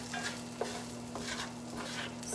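Scallops sear in a hot Pampered Chef cast iron skillet, giving a steady, fairly quiet sizzle and crackle with light stirring scrapes and no talking.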